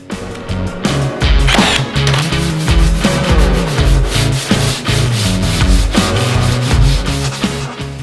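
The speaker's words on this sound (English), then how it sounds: "using a cabinet scraper is amazing for removing excess glue squeeze out" A steel cabinet scraper rasps across wood to remove excess glue squeeze-out. Loud, close, rhythmic back-and-forth scraping strokes run continuously, each with a gritty rub and a slight knock at the turn.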